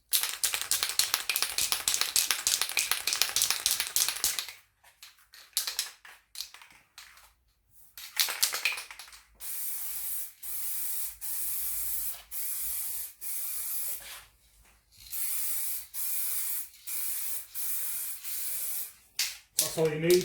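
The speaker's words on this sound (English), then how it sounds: "So you'll have a finer mist of paint when you dust it across the panels." Aerosol can spraying guide coat paint in a fine dusting mist across car body panels during auto body repair, a sustained hiss broken into a series of steady bursts with short pauses, close and fairly loud, with no talking.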